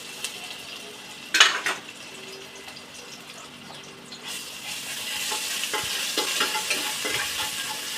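Ginger frying in hot oil in a pan for a goat head curry, a soft sizzle that swells into louder, steady crackling as the spoon stirs and scrapes, with a clank of utensil early on.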